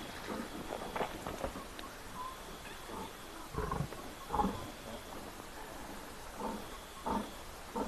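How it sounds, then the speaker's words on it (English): Wild animals on safari squabble over a carcass, letting out faint, intermittent growls and roars in short bursts over a soft, rain-like background hiss. "the roaring and then of course all the chaos, the growling when they fight for position on the carcass"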